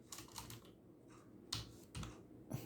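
Keys clatter on a computer keyboard as Python code is typed for a BMI calculator, in short bursts of clicks with brief pauses between them, fairly faint and close.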